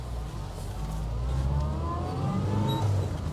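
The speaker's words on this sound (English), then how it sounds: "Oh, the sound of those drop gears" 1983 Austin Metro with A-series engine and four-speed gearbox, drop gears whining while driving, a rising tonal whine over steady low engine rumble inside the cabin.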